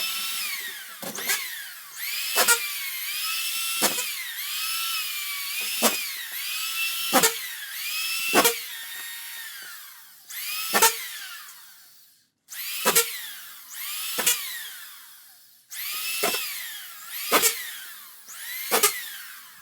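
A power drill drives screws through drywall into the studs, roughly a dozen short whirring bursts in a fairly regular rhythm, each ending in a sharp bite as a screw seats, close and alone with no talk.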